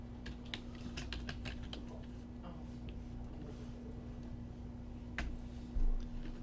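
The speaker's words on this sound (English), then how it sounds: "typing in works cited" Typing on a computer keyboard during a word-processing lesson: quick, irregular clusters of key clicks, heaviest in the first two seconds, over a steady electrical hum, with no talking.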